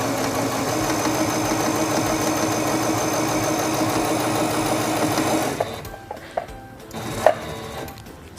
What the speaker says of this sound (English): Release the button and sew forward along your seam.